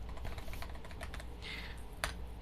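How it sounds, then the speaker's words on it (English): Quick, irregular clicks of typing on a computer keyboard, close and fairly soft, with a short burst of faster keystrokes and one sharper tap near the end, no voices. "I don't know if you could hear the keyboard, but yeah, I'm typing right now."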